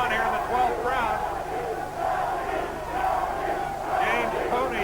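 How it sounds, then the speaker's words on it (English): A boxing crowd at a James Toney fight in the 12th round roars steadily, with a section of fans chanting his name in rising, rhythmic swells over continuous loud crowd noise. "James Toney's section begins to chant his name"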